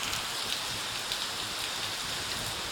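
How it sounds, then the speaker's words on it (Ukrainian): Heavy rain downpour at a rock-climbing camp, a dense steady hiss of falling water close by, continuous and alone without voices. "А це Велика злива вже завершиться."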